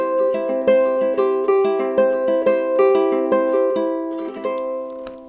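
Fast ukulele fingerpicking in a quick, even pattern: bright plucked notes ring out close and clear, with steady repeated attacks and no talking.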